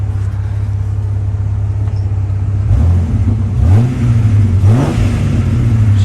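A Jeep WJ with a newly installed engine revs loudly up and down twice over a steady idle rumble, close to the vehicle with no talking.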